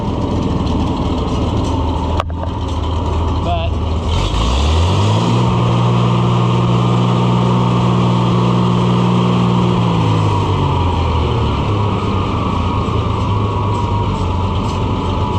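An Oliver 1800 tractor engine idles steadily and loudly up close, its low rumbling drone holding throughout, with a brief rise and settle in pitch partway as the idle is adjusted.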